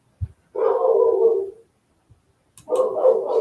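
A dog barks or howls in two sustained, drawn-out vocal bursts, close and fairly loud, separated by a short quiet gap with faint thumps.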